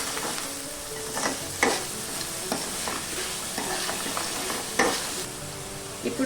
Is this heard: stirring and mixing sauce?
yes